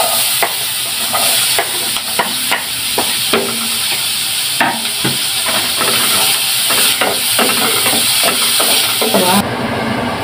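Onions frying in butter in a pan for a fish bistek, giving a steady loud sizzle with clinks and scrapes of stirring throughout, no voices over it.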